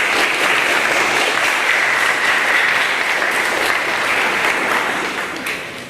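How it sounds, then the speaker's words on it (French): An audience at a couples' seminar evening breaks into dense, steady clapping that fades slightly at the end, with no voices over it. "Un petit applaudissement pour les encourager."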